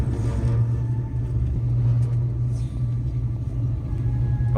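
Japan's oldest aerial ropeway, opened in 1929, carries a cable car with a steady low rumbling drone and faint creaks and clicks, heard continuously from inside the cabin.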